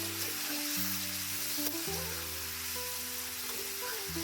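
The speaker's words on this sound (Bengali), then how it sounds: "সামান্য জল দিয়ে আবার" Potatoes sautéing in a pan for aloo dum curry with a splash of hot water, a steady close sizzle under background music, no speech.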